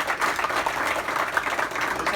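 An audience applauds at a workplace leaving presentation, a short burst of moderately loud, dense clapping that stays steady throughout.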